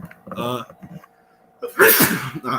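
A single loud sneeze bursts out near the mic, following a few seconds of someone talking.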